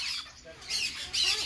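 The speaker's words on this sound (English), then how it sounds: "Cockatoo. Another cockatoo." A cockatoo squawks nearby in harsh, raspy calls, three short bursts in quick succession, loud and close.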